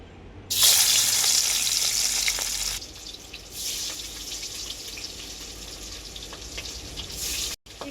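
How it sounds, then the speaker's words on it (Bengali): Pieces of champa fish slip into hot oil with a sudden loud hiss that settles into a steady, softer sizzle close by, cutting off abruptly near the end. "তেলটা খুব ভালোভাবে গরম হয়ে গেছে মাছগুলো আমি ভেজে নেব"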